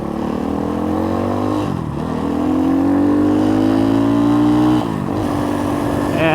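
An X-Pro Templar 250 dual sport motorcycle with a carbureted single-cylinder engine runs steadily close by, its loud drone rising in pitch as it revs, briefly dipping twice before climbing again.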